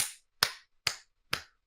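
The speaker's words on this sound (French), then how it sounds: "Applaudissements, s'il vous plaît" Four sharp, separate hand claps at a slow, even pace, fairly quiet and close, with silence between them, from an audience applauding a pharmacist.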